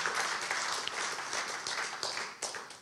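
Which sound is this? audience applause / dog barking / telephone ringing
audience applause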